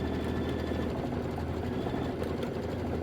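An embroidery sewing machine stitches a letter placement line on fabric for a mini quilt, giving a steady, continuous mechanical hum at close range with no pauses and no one talking.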